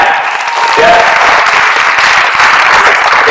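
A wrestling awards banquet audience gives a loud, sustained round of applause, a dense, even roar of many hands clapping from start to finish.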